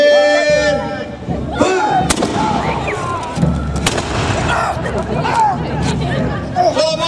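Musket volley fired at an English Civil War reenactment at a heritage festival, several sharp cracks ringing out loud and close amid crowd chatter and shouted commands.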